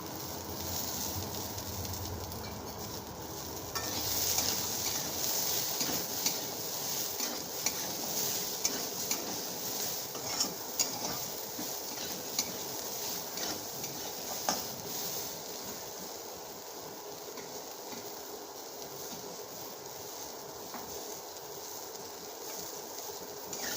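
Vegetables for sukto fry gently in a pan under a long, even sizzle, broken by repeated clinks and scrapes of a spatula as they are stirred.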